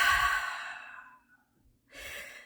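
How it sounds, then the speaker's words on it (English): A slow, breathy exhale through the mouth in diaphragmatic breathing practice fades out over about a second, followed after a pause by the start of another soft breath, close and quiet. "and then you want to just breathe out through your mouth"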